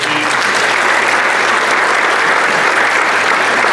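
An audience applauds sponsors at a high school class awards and scholarships ceremony, a loud, dense and continuous roar of many hands clapping at once.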